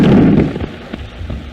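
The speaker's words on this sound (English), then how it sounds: "But what were those explosions? Shells, my dear." An artillery shell explodes loudly at the start, then its deep boom decays into a rumbling tail with a few fainter thuds, heard in an early 1930s film soundtrack.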